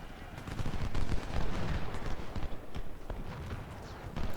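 Distant cannon fire and rifle gunfire rumble through a Civil War battle at Gaines' Mill in the strategy game Ultimate General: Civil War, a dense, continuous wash of overlapping shots with no clear separate reports.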